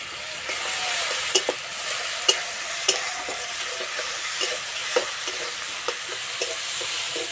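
Ginger garlic paste fries with chopped green chilli, tomato and onion in a pan, giving a soft continuous sizzle punctuated by regular sharp clicks of a spatula stirring against the metal, with no talking.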